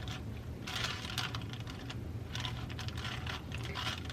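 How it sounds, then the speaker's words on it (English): Scissors cut fabric along a marked line close to a quarter-inch seam while a bra is being sewn. Quiet, irregular snipping clicks come in short bursts over a soft steady background. "So I'm just going to take and cut this straight on that line"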